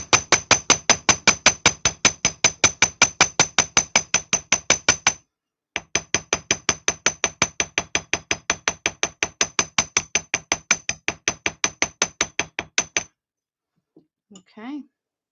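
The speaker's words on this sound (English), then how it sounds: "so there's our spirals hammered" A jewellery hammer strikes wire spirals in a rapid, steady run of sharp metallic taps, close and loud, pausing briefly mid-way then resuming for dozens more blows before stopping, with a faint voice at the end.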